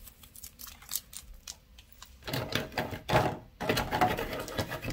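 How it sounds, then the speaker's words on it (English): Tape is peeled off the packaging of a That Girl LayLay and Glow Up Girlz Kenzie doll box: after a quiet start, a few loud, close, scratchy ripping bursts with brief pauses between them. "So let's take the tape off of it and see what's on that."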